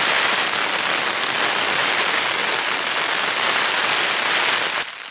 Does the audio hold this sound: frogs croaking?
no